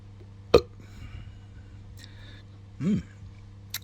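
A short, throaty burp follows a drink of pale ale, with a brief sharp catch of breath just before it and soft room noise around it.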